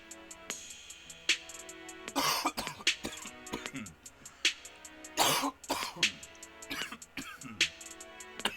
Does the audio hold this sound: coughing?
yes